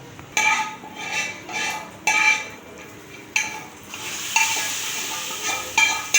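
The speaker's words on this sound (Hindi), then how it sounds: "अब मैं अपने दाल में इससे तड़का डालूँगी।" Hot tempering oil poured into cooked lentils crackles and sizzles in loud bursts, with clinks of a metal pan and spoon in between.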